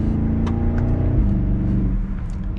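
Engine and exhaust of a 2022 BMW X7 M50i xDrive on the move, a deep steady rumble with a droning low tone that shifts pitch slightly as the engine note eases off near the end.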